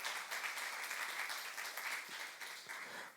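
Congregation applauding during a youth service sermon at a Korean church, a dense, steady wash of many hands clapping throughout, fairly faint and distant.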